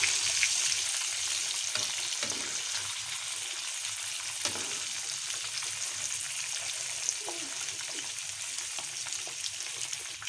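Fish fillets fry in hot oil in a pan, a dense, even sizzle and crackle held at a steady level close by, with a few faint clinks and no voices.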